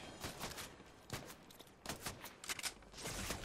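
Bursts of gunfire from the Fortnite video game, several rapid volleys of shots at moderate distance, scattered across the moment in uneven clusters.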